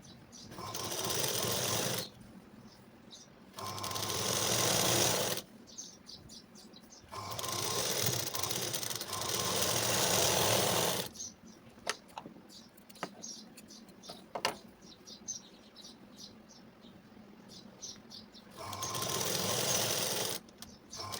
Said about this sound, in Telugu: చూడండి ఇలా నీట్గా ఇలా చేసిన తర్వాత మనం స్ట్రైట్గానైతే కుట్టు అయితే వేసుకోవాలి